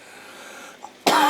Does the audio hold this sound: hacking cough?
yes